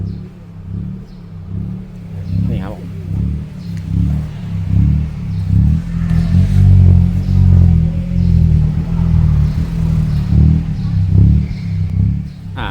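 A Mitsubishi Attrage with an electric throttle box set to a blow-off sound mode: a close, loud idling engine rises and falls through several revs, with a few brief hissing bursts over the rumble.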